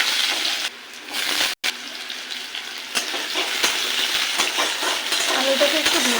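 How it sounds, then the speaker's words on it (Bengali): Small diced potatoes fry in oil with whole cumin seeds in a wok, a close, steady sizzle broken by stirring scrapes and a brief cut, with no talking. "আলুটাকে একটু ভেজে নেব।"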